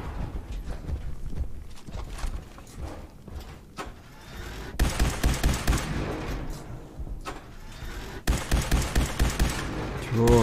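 Weapon fire in Fallout 4: bursts of gunfire mixed with game effects and footsteps, with louder stretches of shots near the middle and the end over steady game background noise.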